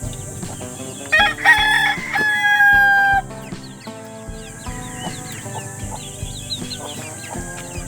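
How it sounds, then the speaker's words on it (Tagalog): Roosters crow loudly and close by, with one long cock-a-doodle-doo near the start. Hens keep up a busy run of clucks and calls around it, and no one speaks. "Mas marami na itong tandang guys."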